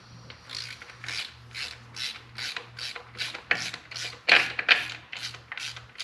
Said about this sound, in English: First thing we want to do is loosen the chain tensioner.